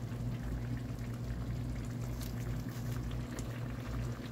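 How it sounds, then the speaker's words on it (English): Yellow squash simmers in water in a covered pot, giving a steady, even bubbling boil with a faint hum, continuous and moderately loud with no talking. "And then it'll begin the sauteing down process."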